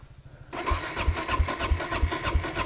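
Suzuki DRZ400S motorcycle engine cranking briefly, then catching and running with a rough, rhythmic thumping idle close by.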